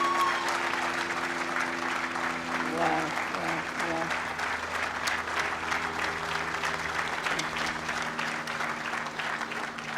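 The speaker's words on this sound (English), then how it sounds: "A round of applause to him" Audience applauding at a college commencement ceremony after an award presentation, sustained even clapping throughout with a voice exclaiming once and low hum beneath.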